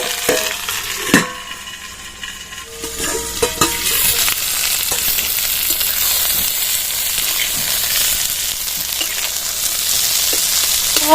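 Garlic and onions fry loudly in a hot pan, with a few sharp clatters and a stir near the start before the sizzle swells into a dense, steady hiss, close with no talking.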